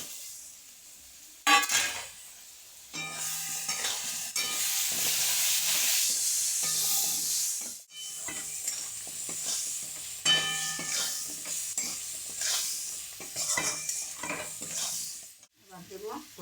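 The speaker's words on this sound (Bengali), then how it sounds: "এবার পেঁপে আর আলুগুলো দিয়ে দেবো।" Papaya and potato pieces frying in a spice masala, stirred hard with a metal spatula: a loud hiss of frying with repeated scraping strokes and an occasional clang on the pan, close by, with no talk.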